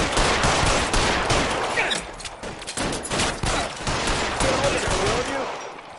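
Rapid gunfire bursts from a shootout in the video game L.A. Noire, repeated shots crackling loudly and continuously with brief gaps, layered over game sound.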